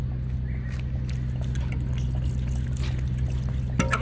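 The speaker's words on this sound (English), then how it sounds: "So both the gas bottles are filled with water, and we just flush them through now." Water draining out of drilled 8kg LPG gas bottles outdoors, a steady pouring trickle with low gurgling rumble running continuously at close range.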